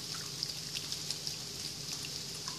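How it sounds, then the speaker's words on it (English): A hot sauce dressing is whisked in a bowl, a faint, steady run of quick, light ticks and swishes repeating rapidly and evenly nearby. "And then I just whisk it up."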